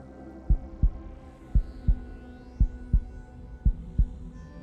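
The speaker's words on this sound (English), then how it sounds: "Can you hear her heart beating?" A slow, steady heartbeat in a horror point-and-click game about cults: paired low thumps repeat evenly about six times over a faint droning hum, with no talking.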